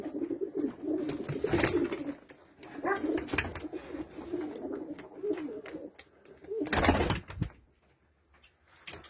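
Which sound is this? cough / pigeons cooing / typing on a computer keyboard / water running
pigeons cooing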